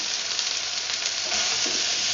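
Mussels, butternut squash and coconut milk being stirred in a pot, a steady bubbling sizzle with soft scraping that swells slightly toward the end, no voices.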